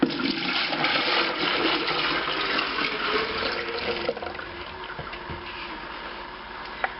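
Water gushes steadily into a sink as honeycomb is washed after a honey harvest, loud and continuous at first, then easing, with a few small clunks near the end.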